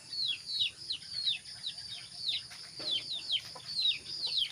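Repeated clucking from a chicken nearby, a steady run of short calls with no talking.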